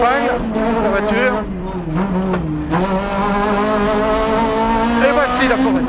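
Renault Clio Maxi rally car from 1995 rounding a hairpin, its engine note dipping and climbing steadily throughout, loud and close, with a voice talking over it.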